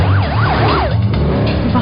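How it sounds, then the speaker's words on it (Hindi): An ambulance siren wails in a rising and falling sweep, loud and close over a low rumbling background. "सिर्फ एक कॉल करने से तुरंत एम्बुलेंस आ गई"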